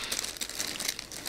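A plastic bag holding flea market finds is rustled and crinkled up close, a continuous dense crackling with quick irregular bursts and no speech.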